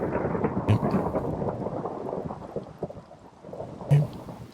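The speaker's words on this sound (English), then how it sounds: "Thunder and everything." An in-game thunderstorm rumbles with steady rain underneath, the low roll rising and falling, then a sharper crack near the end over the soft, continuous patter.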